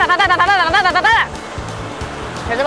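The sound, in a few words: rushing water at Sabino Falls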